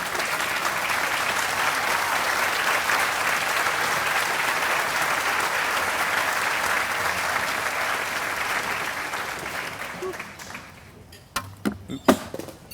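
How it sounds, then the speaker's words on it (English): An audience at a polo hall of fame induction ceremony applauds museum board members, a full steady clapping that fades out near the end, followed by a few sharp knocks and handling noises. "please, a round of applause."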